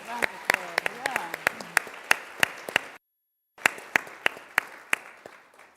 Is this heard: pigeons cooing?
no